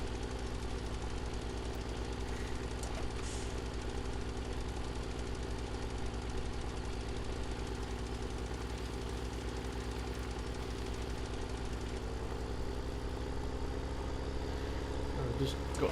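Tractor engine labouring uphill in Farming Simulator 17, a steady, unbroken mid-pitched drone with a knocking, vibrating undertone, close and constant throughout.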